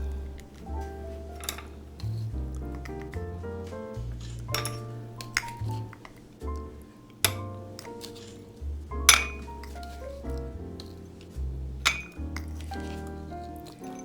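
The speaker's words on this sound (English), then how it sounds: "I'll put maybe 2 teaspoons apiece in each glass." A metal teaspoon repeatedly clinks against glasses while cookie crumbs are spooned in, giving irregular bright taps and rings over a low, steady hum.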